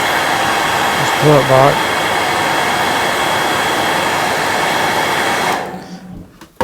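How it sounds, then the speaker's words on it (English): A hair dryer blows with a steady, loud whooshing hum, a voice speaking briefly over it, before the dryer cuts off near the end. "you can just wet your fingers, or you can, like I like to do, just get the hairdryer."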